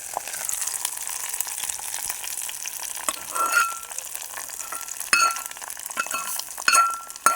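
Hot tempering with a pinch of asafoetida is poured into cucumber dal. It gives a broad, steady sizzling hiss with a few sharp clinks of a metal spoon against the pot, close by and with no talk.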